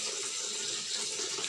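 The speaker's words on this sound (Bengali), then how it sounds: "তো দেখো কলটা খুলে দিচ্ছি" A bathroom tap that gives only a thin, narrow stream runs briefly, making a steady soft hiss of falling water, close and fairly quiet, with no talk.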